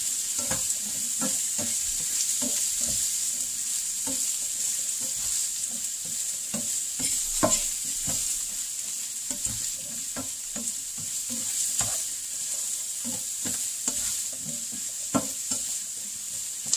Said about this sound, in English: So let's kind of move it around and get it coated in the oils